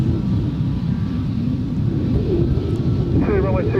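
Airliner taking off from runway 23 at Adelaide Airport, a loud sustained jet engine roar rumbling low and steady throughout, with a brief higher whine toward the end and no clear talk.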